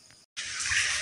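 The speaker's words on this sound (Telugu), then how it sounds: "అదో సౌండ్ అయితే ఏమొస్తుంది, వాటర్ సౌండ్." Water at Rapur waterfall rushes in a steady broadband wash that starts abruptly after a brief gap and continues loud and close.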